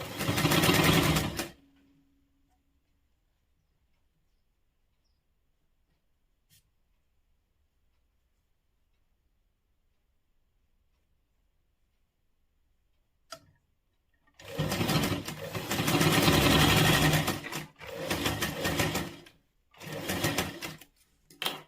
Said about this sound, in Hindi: इसके भी हम किनारे पे एक पैर की दूरी पे सिलाई चलाते जाएंगे।